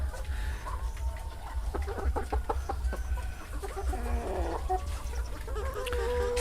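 Laying hens in battery cages cluck in short, repeated calls over a steady low hum, several birds close by with soft rustling between calls.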